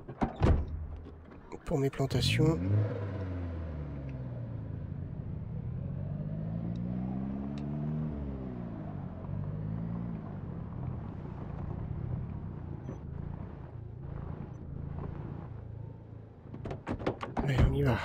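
Car door and engine in the video game Project Zomboid, a dented car in snowy, cold, windy weather: a door thud near the start, then a steady engine drone with rising and falling pitch under ongoing talk, with further knocks at the end.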